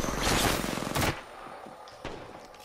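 Heavy gunshots in a first-person video game, loud blasts in the first second followed by a fainter shot about a second later.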